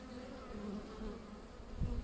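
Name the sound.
honeybees buzzing at an open hive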